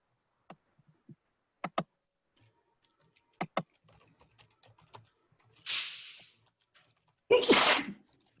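Two sneezes burst out at a desk at an online gathering, the second louder, after a scatter of sparse keyboard clicks and taps in an otherwise quiet room.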